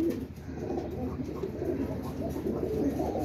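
Pigeons coo in a low, steady murmur throughout while one is checked during a pigeon-keeping session, the soft rolling calls continuous and close.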